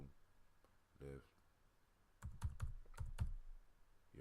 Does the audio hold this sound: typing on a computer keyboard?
yes